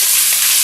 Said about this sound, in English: you can see in there bacon cooking